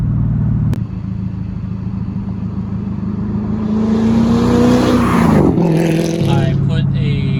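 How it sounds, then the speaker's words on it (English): Manual-swapped Mercedes E55 AMG pulling hard through third gear, its engine note climbing steadily through an X-pipe dual exhaust with a deep rumble, then a brief dip at the shift near the end; loud and close, with a voice speaking over it. "Let's do a third gear pull."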